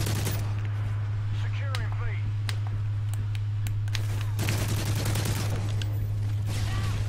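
Online Call of Duty gunfire: sharp bursts and rapid fusillades of shots at varying distances, with a steady low hum underneath and some voices in the background.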